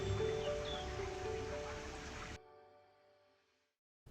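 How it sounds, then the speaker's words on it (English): Steady rain patters on and around a moored boat, a dense hiss that is loud for a couple of seconds, then drops away abruptly to faint drips and quiet before a brief return at the end. "just in time for the rain to arrive"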